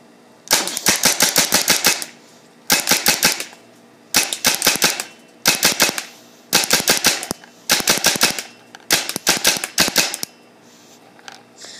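A Tippmann 98 Custom paintball gun fires close and loud in seven rapid bursts, each a quick string of sharp pops, separated by short pauses.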